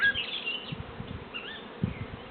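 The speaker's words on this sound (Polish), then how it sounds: "Te pszczoły na dole mają naprawdę bardzo dużo do roboty" Honey bees buzzing around a hive nearby, a low wavering hum with a few louder passes as individual insects fly close.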